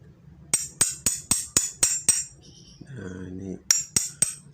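A hammer striking a chisel into bonsai wood, a run of seven crisp metallic taps in steady rhythm, a brief pause with a murmur, then three more taps, close and clear.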